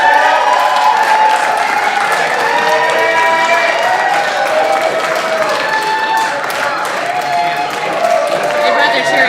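A cheering squad at a startup pitch competition finale claps and whoops loudly, a dense, continuous burst of applause with excited shouts layered throughout.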